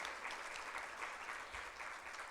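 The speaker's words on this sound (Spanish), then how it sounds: "Dele un aplauso al Señor." Applause from a church congregation, a dense, even roar of many hands clapping that goes on without a break, heard from somewhat far off and fairly quiet.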